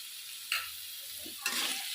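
Spice masala with coriander, cumin and chilli powder sizzles softly in a pan for a pointed gourd and prawn curry, with two brief scraping stirs over a faint steady hiss.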